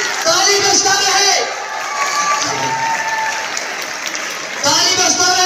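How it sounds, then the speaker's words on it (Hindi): A school audience at PD Memorial School claps loudly and continuously to welcome Indian wrestler Babita Phogat, with crowd noise throughout and a voice speaking over the applause. "जोरदार ताली, ताली बजता रहे"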